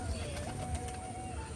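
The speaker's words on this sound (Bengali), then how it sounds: "ফ্রেন্ডলি পায়রা একটা বলতে পারো, সাদা একটা মাদি।" A white female pigeon coos softly at close range, a low murmuring call repeated through a short stretch with a faint background hiss and no voices.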